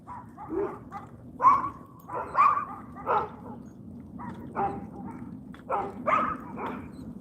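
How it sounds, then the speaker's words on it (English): A Doberman barks in a suburban garden setting, a series of separate loud yaps and bow-wows in an irregular rhythm, fairly close, with no talking. "we're going to give that Doberman a wide girth because it's pretty crazy"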